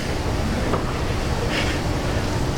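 Water squirting from flower-shaped fountains into a resort swimming pool, a steady broad splashing wash close by and outdoors, continuous with no voices.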